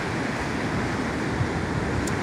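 Sea surf rolling onto the beach at Da Nang, Vietnam, on a windy day: a steady, dense broadband wash of breaking waves with wind rumble on the microphone, continuous and fairly loud with no distinct breaks.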